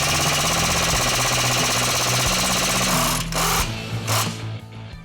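An impact wrench loosens sway bar end links and lower strut bolts on a 2016 Toyota Tundra. It gives a loud sustained rattling hammer for about three seconds, followed by shorter bursts and pauses.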